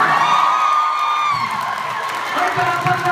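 A live audience cheers and shouts with some applause, a loud, sustained crowd roar that swells and lingers, with voices calling out over it.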